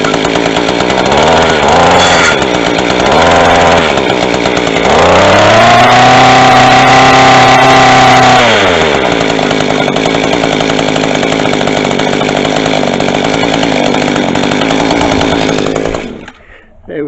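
A Mantis tiller's small two-stroke engine, fitted with a new carburetor, plug and fuel lines, running loud and close with a buzzy drone that revs up, holds high, then settles to idle before cutting off.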